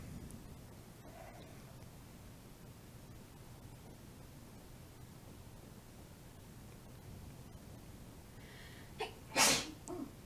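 A single short sneeze bursts out near the end after a long stretch of quiet room hiss during miniature painting, loud and close against the faint background.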